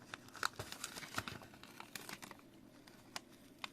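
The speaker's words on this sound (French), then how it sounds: "Je suis tout en train d'arracher" Stuck adhesive paper is torn and peeled during card crafting, making faint, close crinkling and ripping with irregular small snaps, and no voices.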